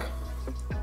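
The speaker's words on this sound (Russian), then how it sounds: "Тут уже 7 капель улетело бальзамического." Two small, soft drips of balsamic vinegar falling onto lettuce leaves for a salad, brief and close against a faint background hum.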